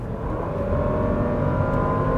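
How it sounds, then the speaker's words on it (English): Loud, steady engine roar building as a 2020 Range Rover Autobiography with a supercharged 5.0-litre V8 accelerates in dynamic mode, a deep continuous exhaust growl with no voices over it. "the exhaust sound actually becomes louder, and wow, it just pulls the car very nicely"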